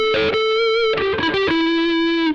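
A PRS SE electric guitar with its coils split plays a short run of distorted notes, sustaining chords and single tones up close and loud.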